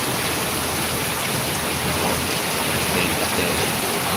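Torrential rain pours onto the Dhaka–Tangail highway in Bangladesh, a dense, steady roar of heavy downpour that fills the whole clip without a break.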